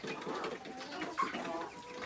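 Newly acquired chickens in a small homestead pen cluck and chatter softly, several birds overlapping in a low, busy murmur with a few sharper calls, heard close and fairly quiet.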